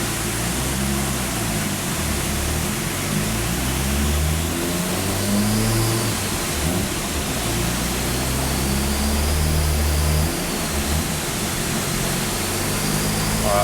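Mazda RX7 converted to a single turbo, engine running on a test run with a steady loud drone and gradual rises in revs, heard from inside or near the car without talk.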